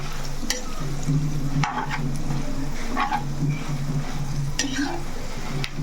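Coriander seeds and dried chillies roast in a pan, giving a soft continuous sizzle broken by several short scraping stirs, close and moderately loud, with a faint hum underneath.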